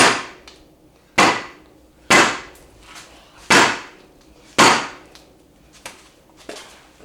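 A hammer strikes a wheel hub resting on a piece of wood to drive out a failed bearing, landing five loud, sharp metallic blows at uneven intervals with lighter taps between them, close to the listener.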